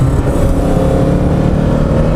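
A 1976 Lotus Elite engine revs hard through a gear change, a loud, close, continuous drone from inside the car with no talk over it.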